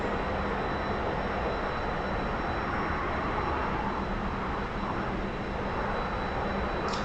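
A T-45 jet trainer's engine in the DCS flight simulator roars as a steady, broadband cockpit drone that holds loud and even throughout, with a thin high whine above it and no voices.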